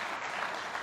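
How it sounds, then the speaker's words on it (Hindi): Brief burst of audience clapping at an Independence Day poetry gathering with soldiers, a steady, moderately loud wash of many hands, without voices. "जरा ताली भी तो बजा दे।"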